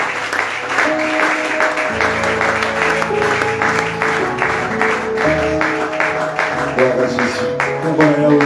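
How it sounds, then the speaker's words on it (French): Church congregation applauding loudly and steadily throughout, dense clapping over sustained music with organ-like tones, crowd voices mixed in. "nous invitons le pasteur Joël Kienga, les enfants de Dieu acclament très fort"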